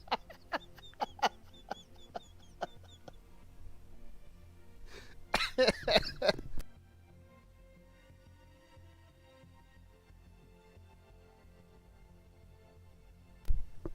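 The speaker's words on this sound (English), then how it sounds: "Oh, that made me cough so bad." A person coughs in a rough burst of several hacks in the middle, after a few sharp clicking taps, then near silence with a faint low hum and one more click at the end.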